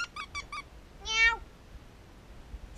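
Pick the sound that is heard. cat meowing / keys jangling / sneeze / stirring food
cat meowing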